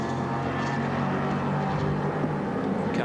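A Ford Mustang touring car races at Amaroo Park in a 1986 historic touring car event, its engine a loud, continuous low roar with droning harmonics, steady and close throughout.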